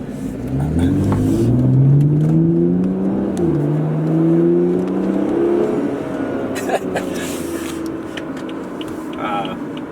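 A BMW F30 335i engine with a new enclosed-box aFe Power air intake revs up and down repeatedly, its tone rising and falling with a throaty intake whoosh, loud and close.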